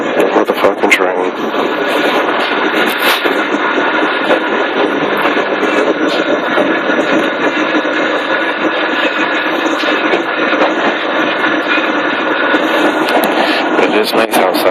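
A New York subway train rumbles along on the long ride out to Rockaway, a continuous loud roar of wheels and motor with rattling carriages and occasional sharp squeals, unbroken for the whole stretch.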